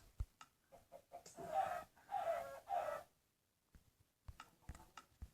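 Chickens clucking in a video game, a run of soft, breathy clucks and squawks in short bursts with a few brief sharp taps between them, faint and close, with no talk.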